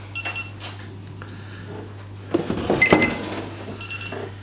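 The ND Baitboat 2 remote control beeps while syncing with the boat: short electronic bleeps at the start and end, with handling clatter between them over a constant low hum.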